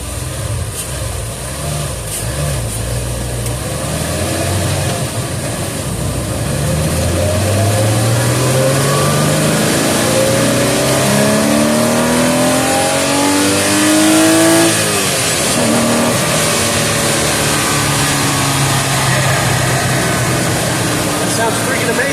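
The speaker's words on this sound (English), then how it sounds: "I actually removed the engine cover on this thing, and it sounds really, really good, and it is freaking loud." A Porsche Boxster S with its rear engine cover removed, flat-six engine revving up loudly through several rising gear pulls with shifts between them on a highway, close and dominant, with someone talking over the start.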